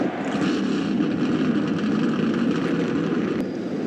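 Race car engines fire up at the start of the DirecTV 500, a dense, continuous roar of many motors that stays loud and steady throughout, with no voices.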